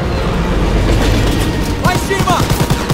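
A train in motion in the World War II shooter game Call of Duty WW2, a loud rumbling rattle with rhythmic clacking that grows more distinct toward the end, mixed with battle noise.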